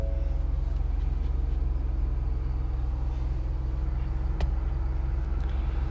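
A 2021 Ford Bronco Outer Banks with the 2.7 EcoBoost engine idles just after startup, a close, steady low rumble with a faint click partway through.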